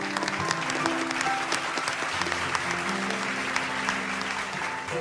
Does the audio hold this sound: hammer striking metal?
no